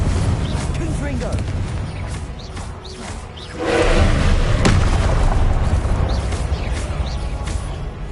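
A loud fiery blast from the Confringo explosive spell in Hogwarts Legacy bursts out midway, a roaring boom that swells and stays dense over busy game noise and speech-like sounds before it.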